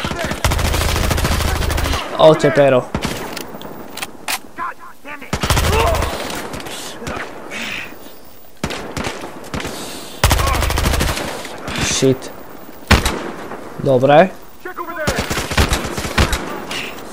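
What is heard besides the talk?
gunfire in video game Battlefield Hardline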